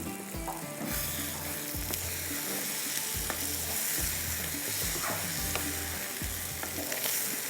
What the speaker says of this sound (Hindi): हरी मिर्ची इसमें डालूँगी और इसको करते हैं मिक्स